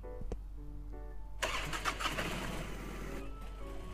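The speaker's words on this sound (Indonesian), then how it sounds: "Coba lihat, ini motor kita nih." A motorcycle engine starting in the game Warnet Life 2: a brief click, then a sudden loud burst as the engine catches and settles into a rough mid-pitched idle, with faint birdsong beforehand.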